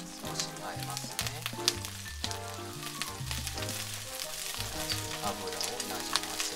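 Rapeseed blossom greens for peperoncino fry in a pan, a soft continuous sizzle with light crackles beneath a prominent melodic music track.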